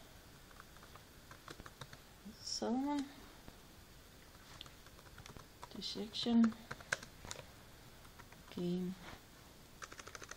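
Quick, light clicks of typing on a computer keyboard patter along throughout at close range, interrupted by short bursts of speech from a person talking.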